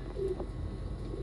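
Pigeons coo softly nearby in a brief, low murmuring call over a faint background hum.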